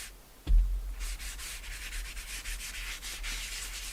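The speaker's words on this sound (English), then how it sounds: "rub ink pad, and just add a little bit of ink" An ink pad rubbed along the edges of paper while making a moth-themed mini journal: after a soft thump, a continuous close scratchy rubbing starts and runs steadily with slight pulsing strokes.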